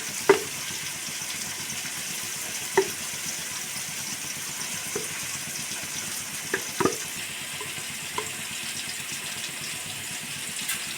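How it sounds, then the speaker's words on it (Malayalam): Green chilies and ginger sizzle gently in a hot pan while being sautéed for a pot curry, a steady low frying hiss broken by a few sharp clinks of the spoon against the pan. "നന്നായി ഒന്ന് വഴറ്റി വരട്ടെ."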